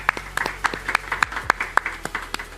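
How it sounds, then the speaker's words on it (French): A small audience claps for a performer at a community talent show, sparse and uneven with distinct individual hand claps rather than a dense roar. "On peut l'applaudir."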